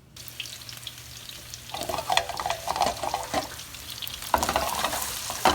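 Meatballs fry in an oiled pan over medium-high heat, a steady sizzle with stirring and scraping bursts as they are moved around, louder in the second half, with no voices.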